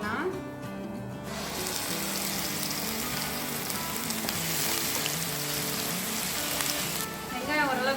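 Onions sizzle in hot oil for a green peas curry, a dense, steady frying hiss running throughout with a quieter start, under faint background music.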